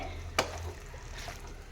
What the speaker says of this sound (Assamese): এয়া মই 2 মিনিটমান সময় এনেদৰে ভাজিছোঁ মাংসৰে সৈতে